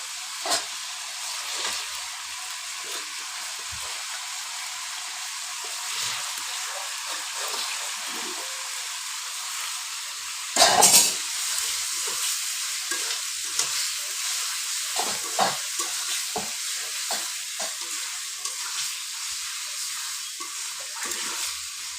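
Meat and spices frying in oil in a pot for biryani, a soft continuous sizzle with occasional stirring scrapes and one brief louder clatter near the middle, fairly quiet overall, no voices.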